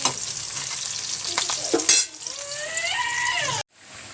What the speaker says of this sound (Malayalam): കാച്ചി ഒഴിക്കാനുള്ള ഉള്ളി വെച്ചിട്ടുണ്ട്.